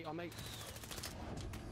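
Gunfire in Call of Duty Warzone's zombie royale mode: quiet, rapid crackling shots in close succession, fairly faint, with a voice briefly speaking at the start.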